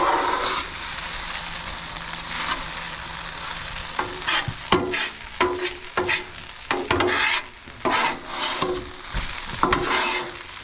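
Shrimp sizzling in a camp pan at a campsite while being mixed, a continuous sizzle broken by frequent sharp scraping and clattering stirs of a utensil against the pan.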